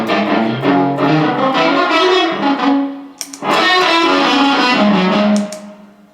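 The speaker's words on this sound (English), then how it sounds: "And this is like a slapback." Electric guitar played through a pedalboard with a slapback delay setting, giving short doubled echoes on each note and chord; a loud, sustained run of playing with a brief gap near the middle, alone with no talk.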